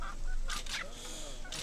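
Squawks and honks of the cartoon chickens in the video game Moorhuhn Xtreme, a shooting game, sound in quick, loud bursts over steady game noise and music.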